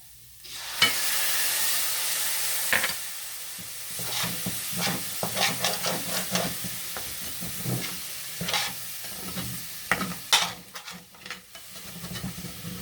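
A hot pan of potatoes sizzles and hisses loudly as water hits it, with scattered crackles and pops and a steady steamy hiss underneath.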